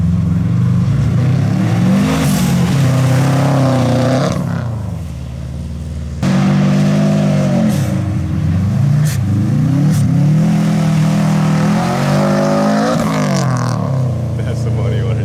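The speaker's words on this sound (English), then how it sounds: "So this is our friend Mike's STI, who is letting us come out here and drive with him" Engine of a Subaru STI rally car revving and rising in pitch repeatedly, loud and close, with a brief drop near the middle and people talking over it; out in wintry driving conditions.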